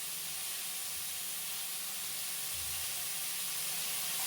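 Cut tomatoes with salt sauté in a pan, producing a steady, dense hiss of sizzling that holds unchanged throughout at moderate loudness, with no speech.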